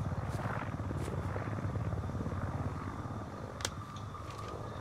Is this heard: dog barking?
no